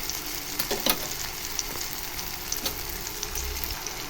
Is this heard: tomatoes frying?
yes